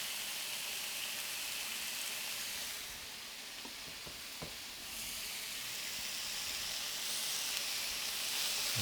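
Black pork fillets seasoned with rock salt and cracked black pepper sear in a hot pan, giving a steady close sizzle and crackle that runs throughout, with a few faint clinks in the middle.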